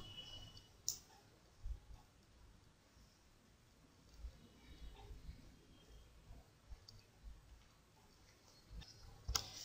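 Quiet, sparse mouse clicks in an office setting, a few isolated sharp clicks spaced seconds apart over low room hum.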